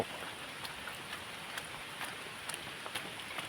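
Steady rain falls on a hillside trail, a soft continuous hiss broken by scattered louder drops, with no voices heard.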